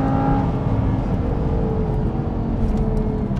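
An Audi R8 first-generation sports car engine with an aftermarket exhaust revs and rumbles loudly with a deep, throaty exhaust note, steady and close, no voices present.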